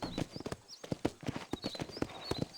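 A horse's hooves clip-clop at a brisk, even trot in Red Dead Redemption, a steady run of crisp close hoofbeats with faint high chirps from birds in the background.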